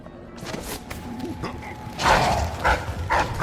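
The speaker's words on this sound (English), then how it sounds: "I know I can kill the dogs." Dogs in Dishonored 2 give several short barks and yelps in a noisy game scene, with louder bursts near the end over a steady background.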